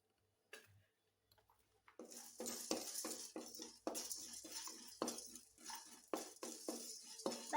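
Chana dal frying in a pan, stirred with a metal spoon: faint sizzle under irregular light clinks and scrapes against the pan, starting sparse and becoming more frequent, close by with no talking.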